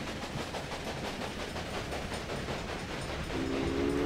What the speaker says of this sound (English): In goes our train.